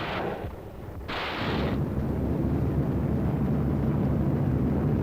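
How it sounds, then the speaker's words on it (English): Naval guns firing massed salvos at the Normandy beaches on D-Day, heavy booming blasts followed by a sustained loud roar, with no talking. "firing their massed salvos with close precision until the troops were 300 yards from the beaches"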